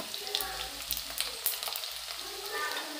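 Garlic, cumin, mustard seeds, fennel, nigella and ajwain crackle and sizzle in hot oil in an Indian home kitchen while amla sabzi is cooked, with loud spattering pops and stirring scrapes.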